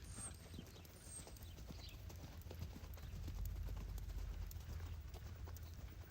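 A horse trots in steady clip-clop hoofbeats during a ridden reining training session in an arena, the rhythmic footfalls continuing close and evenly for several seconds over low background rumble.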